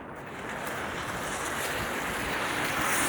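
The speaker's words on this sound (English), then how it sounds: "this wind immediately blows my umbrella inside out" Strong wind roars across a snowy downtown Toronto street in November, a steady broadband rush that builds slightly and buffets the microphone, with no talking.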